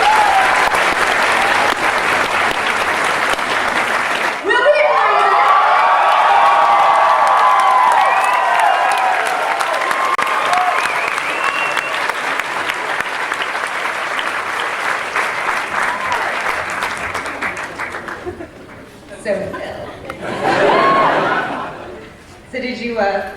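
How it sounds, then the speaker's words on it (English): A large audience at a Comic Con panel breaks into loud sustained applause with some cheering, fading out before a short second burst of clapping and crowd reaction, with voices mixed in. "I want you all to please give yourself a round of applause for that"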